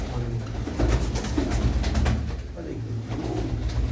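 Pigeons coo in low, repeated throaty calls close by, blending with a continuous background rumble and people talking nearby.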